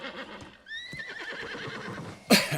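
A horse whinnies in the video game New World during a horse race quest, a rising then wavering neigh with clip-clop hooves underneath and a sharp louder burst near the end.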